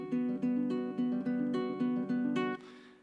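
Plucked strings picked in a repeating 2-3-1-4-1-3 order, a steady rolling pattern of bright notes with no talk over it, ending on a final ringing pluck that decays.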